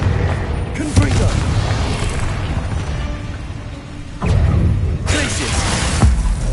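Booming blast-curse explosions go off in the Hogwarts Legacy video game, two heavy bursts with rumbling tails over a constant battle din, while a voice calls out between them.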